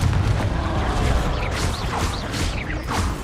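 Fiery Confringo spell blasts go off in Hogwarts Legacy, a continuous roaring, crackling barrage of booms and whooshing impacts that fills the whole stretch loudly.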